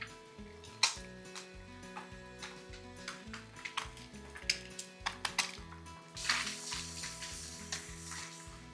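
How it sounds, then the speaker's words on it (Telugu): Eggs fry in a pan for an egg pepper fry while a utensil turns them, with scattered clinks and taps over a soft sizzle and a louder sizzling swell near the end, with background music. "ఎగ్స్ని ఇంకా ఇట్లా ఫ్లిప్ చేసుకోవడమే"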